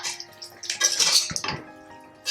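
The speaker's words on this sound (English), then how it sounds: "And I'm stirring it once more." Metal spoon clinking and scraping against a pot while stirring stewed beef with potatoes, a series of close, irregular clatters over a couple of seconds.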